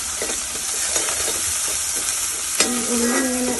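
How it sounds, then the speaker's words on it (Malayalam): Onions sautéing with a pinch of salt in a pan for a spicy Kerala pork roast, a steady close sizzle broken by scraping stir strokes, with a sharper clatter midway; no voices. "നമുക്ക് നന്നായിട്ട് വഴച്ചെടുക്കാം."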